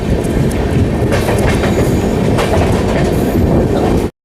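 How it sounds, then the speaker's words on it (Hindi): A WAG9 electric locomotive from the Bhilai electric shed rolls past close by, a loud, steady rumble of heavy rail wheels and wagon clatter with rhythmic clickety-clack that runs continuously throughout, with no talking. "भिलाई का WAG9 41287 WAG9 locomotive from Bhilai electric locomotive shade."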